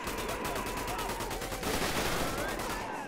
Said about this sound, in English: I have a combat MG?